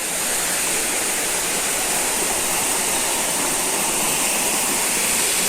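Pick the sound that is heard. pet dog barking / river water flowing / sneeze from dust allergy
river water flowing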